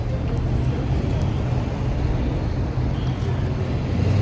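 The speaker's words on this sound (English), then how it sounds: "I don't know where this traffic came from." Road traffic passes nearby as a steady low rumble and wash of engine and tyre noise, continuous and fairly loud with no distinct voices.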